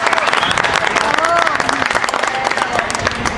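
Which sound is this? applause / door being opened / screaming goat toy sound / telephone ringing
applause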